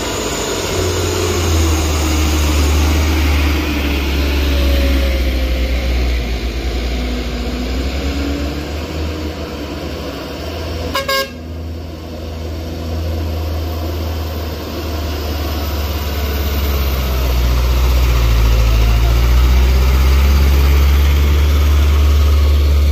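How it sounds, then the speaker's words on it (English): A diesel truck engine drones loud and steady while towing an L300 pickup up a slippery hill at Batu Jomba, a continuous low rumble throughout with a brief click near the middle and rising intensity toward the end. "mobil pick up ini akan ditarik oleh truk diesel yang di depannya"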